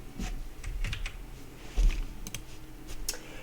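Typing of Linux shell commands on a computer keyboard: a run of quick, close key clicks in an irregular rhythm, a few heavier keystrokes among them, no talking.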